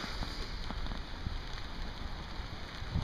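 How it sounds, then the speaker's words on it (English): Steady rain patters on a house roof in a dense, continuous wash, with a few louder individual drops standing out close by and no voices. "It's raining."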